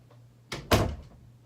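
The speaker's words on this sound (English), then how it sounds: "Hold on, let me shut my door real quick." A bedroom or closet door shut at close range: a soft first contact and then a firmer thunk as it closes, over a low steady hum, with no talking.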